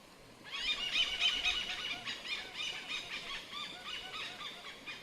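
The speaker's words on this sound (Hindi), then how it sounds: "ये दोस्तों ओरिएंटल पाइड हॉर्नबिल चिल्ला रहे हैं" Harsh, repeated squealing alarm calls of Oriental pied hornbills in a rapid, agitated series, loud and fairly close, with no voices.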